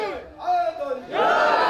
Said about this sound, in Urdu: ذرا اونچی بولو نعرہ حیدری۔